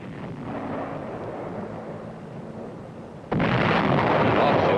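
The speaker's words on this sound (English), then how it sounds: "the artillery threw in white phosphorus shells" Artillery shelling in combat, white phosphorus shells bursting: a dense, rumbling roar of distant blasts that swells abruptly into a louder, sustained crackling burst partway through.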